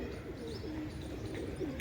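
Tournament racing pigeons coo softly and intermittently over steady low background rumble, faint and a little distant, with no talk.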